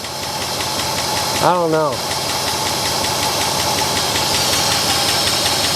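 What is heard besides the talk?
1963 Oldsmobile 98 engine running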